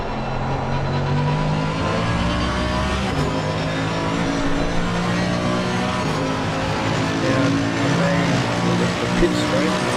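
Race car engine in an on-board lap of Oulton Park in the PC racing game Race On, droning steadily and loudly throughout with rises and falls in revs as gears change.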